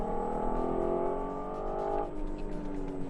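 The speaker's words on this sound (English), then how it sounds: "Just a fantastic growl, real raw, pure growl from the engine as it punches its way out of the corner." An Audi TT Quattro engine growls as the car accelerates out of a corner on the Chennai racing circuit, a loud steady rising drone with a gear change near the two-second mark, heard alone without talk.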